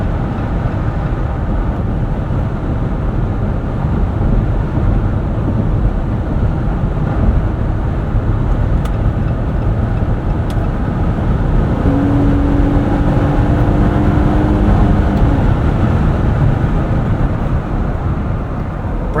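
Steady, loud roar of wind and tire noise inside a 2024 Jeep Gladiator Mojave X moving at higher speed, continuous and unbroken throughout.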